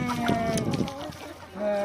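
Native village-breed chickens on a farm of about 300-350 birds cluck and squawk close by in a short burst, several overlapping, with a farmyard murmur behind them.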